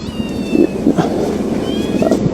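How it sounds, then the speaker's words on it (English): A kitten stuck up high meows repeatedly during a police rescue, several clear mewing calls rising over steady outdoor background noise, fairly close. "I can get that cat down."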